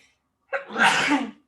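A single sharp sneeze, loud and close, bursting out of silence.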